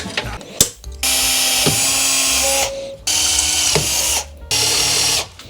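A power drill whirs in three sustained bursts, each a steady high whine, separated by short pauses with clicks and handling noise, while installing an oil cooler in a Toyota Altezza.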